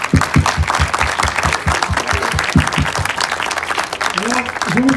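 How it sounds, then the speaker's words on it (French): Applause from a gathering honoring players and their parents at a team event, a steady wash of clapping with a voice speaking over it throughout. "On les applaudit, les parents, nos joueurs."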